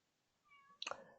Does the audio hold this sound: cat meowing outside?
yes